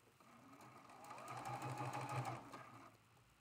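A sewing machine stitches a seam on a Tea Leaf quilt block, a steady close whir that speeds up in the middle and then slows, running alone without talk.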